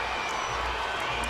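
Spectators cheering at the Penn Relays during a sprint medley relay race, a dense continuous crowd roar with a few faint whoops and claps rising briefly above it.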